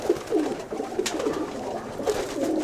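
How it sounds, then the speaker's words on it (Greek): Pigeons in a Ptolemaida loft coo in soft, repeated throaty phrases, several birds overlapping at close range against a steady low background murmur, with no voices. "Τόσο ωραία περιστέρια."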